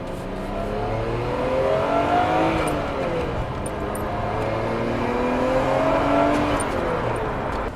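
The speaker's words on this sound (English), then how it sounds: "That beautiful sound that you are hearing here is the R34" A Nissan Skyline GT-R R34 cruising on a highway, its engine note heard from inside with two rising revving sweeps through the gears over steady road roar, loud and continuous.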